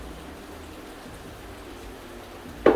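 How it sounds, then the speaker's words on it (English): Steady, soft rain falls throughout, a continuous hiss with low rumble, ending in a brief louder clatter near the close. "You hear the rain, right?"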